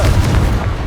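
A Confringo spell blast going off in the Hogwarts Legacy video game: one loud, booming explosive burst with a heavy low rumble that sustains through the moment, sounding close and alone.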